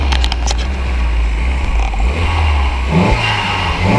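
A car engine just after start-up gets a short rev, rising to a higher pitch around the third second and then settling back to a steady idle. It is close and loud throughout, with no voices.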